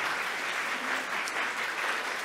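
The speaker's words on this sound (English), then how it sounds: "Let's give a round of applause" An audience claps after a talk on involving children in climate change education at the Bergen University Museum, producing a dense, even burst of applause that holds steady for the whole moment with no speech over it.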